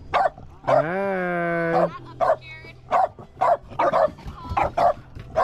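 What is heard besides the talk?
dog barking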